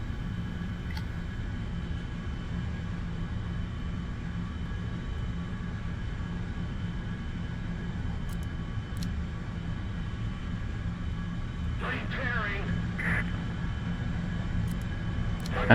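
A-7D Corsair II jet in War Thunder gives a steady, heavy engine drone that holds evenly throughout, with a few faint higher swooshes near the end.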